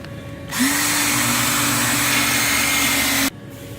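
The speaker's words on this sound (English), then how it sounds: "We want to just drill straight down" A power drill whines steadily at high speed for about three seconds, loud and close, drilling straight down through the metal of a Nissan Titan's hood, then cuts off abruptly.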